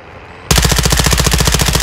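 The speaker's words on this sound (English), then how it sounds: "You are taking effective fire." After a short quiet lead-in, sustained rapid machine-gun fire erupts loud and close in Call of Duty DMZ, a dense rattling burst running to the end.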